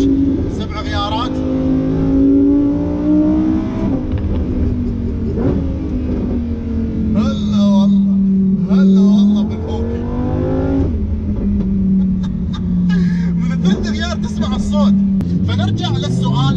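Lamborghini engine revving hard in Corsa mode, with loud sustained engine tones rising and falling across repeated throttle blips, recorded up close. A voice speaks over it.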